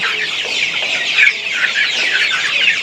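Sonali hybrid chickens cluck steadily and continuously, a busy flock close by with overlapping bright clucks and no talking.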